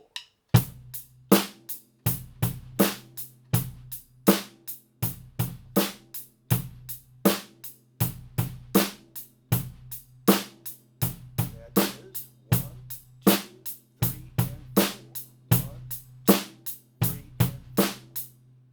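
A steady drum kit groove with crisp hi-hat or snare hits and a low kick drum on beat 1, repeating in even time, played alone and fairly quiet.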